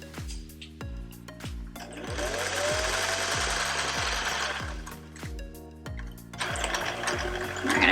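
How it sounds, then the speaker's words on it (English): Sewing machine stitching a seam in a fabric face mask: a rapid, close mechanical chatter that runs in bursts, with a regular thumping beat underneath and brief pauses between runs. "once your sewing machine is all set up, we're going to start with third seam allowance"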